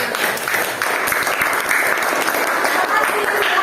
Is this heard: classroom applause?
yes